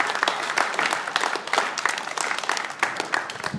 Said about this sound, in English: So a big round of applause for those four people and the other two that couldn't make it.